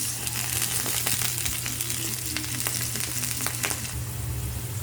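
Ginger strips sizzle in hot oil in a pan, a steady bright frying hiss with occasional crackles and stirring clicks, heard close for about five seconds.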